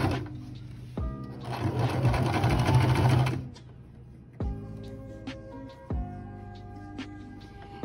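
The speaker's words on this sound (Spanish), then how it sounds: "Y continuamos la costura." A sewing machine stitches bias tape onto fabric in close, steady mechanical runs: a short burst, a long continuous stretch, then a few more short runs separated by brief pauses.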